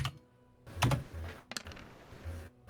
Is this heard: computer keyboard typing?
yes